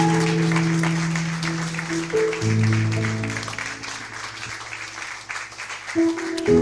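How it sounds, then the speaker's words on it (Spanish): A church congregation claps for the Lord during a Spanish-language service, steady applause from a standing crowd mixed with sustained music tones underneath, continuing for several seconds. "dale un fuerte aplauso al Señor"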